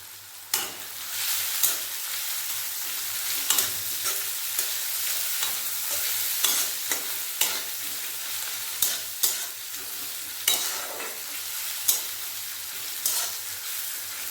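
Onions fry with grated ginger and three green chillies, a close, loud, continuous sizzle broken by regular scraping strokes of a spatula against the pan.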